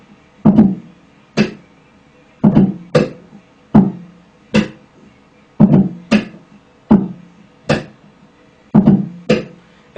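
Muted percussive ghost notes played on a bass guitar to imitate a bass drum, a steady pattern of short thumpy plucks in pairs and singles, close and alone.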